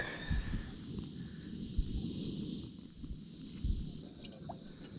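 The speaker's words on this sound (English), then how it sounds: "We're basically just boiling enough water for our oatmeal." Water heating in a kettle or pan on a camping burner outdoors, boiling for oatmeal; a steady low roar with soft bubbling ticks and a few sharper knocks, close and moderately quiet.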